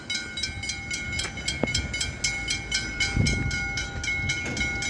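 At a level crossing in Dandenong, with the auto gates closing, a train approaches under a steady rumble and a regular ringing crossing bell, with a few sharp clicks along the way.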